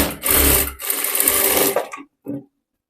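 A sewing machine runs in close, loud bursts while double-stitching a shoulder-dart belt blouse, a steady whirring run that stops briefly, resumes, then ends with a short final burst.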